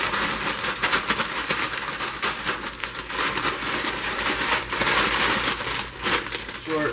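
Crinkly plastic bag of crushed chips and ramen noodles being mixed by hand, with steady close rustling and crackling throughout and some talking over it.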